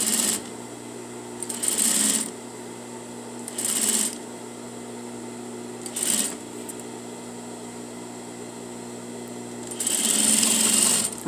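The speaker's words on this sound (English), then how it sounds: "we're going to sew a 1/4 seam" A sewing machine stitches a quarter-inch neck seam on bias binding in short bursts, four or five rapid whirring runs of a second or two each separated by pauses, close and clear over a faint steady hum.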